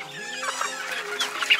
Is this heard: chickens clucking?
yes